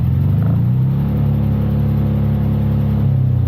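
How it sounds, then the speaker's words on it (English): A Piaggio three-wheeler engine revs with a rumbling, clattery drone, climbing in pitch early then holding steady, loud and close with no voices. "Let's have a listen to the Piaggio revving."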